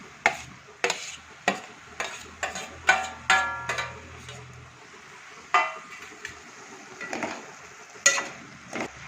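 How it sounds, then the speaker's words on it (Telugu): Tomatoes going into a frying pan of softened ridge gourd pieces for a ridge gourd tomato curry: a run of sharp scraping and clattering spoon-on-pan hits with a faint sizzle underneath, close and fairly loud. "ఇప్పుడు ఇందులో టమాటాలు వేసుకుంటున్నాను"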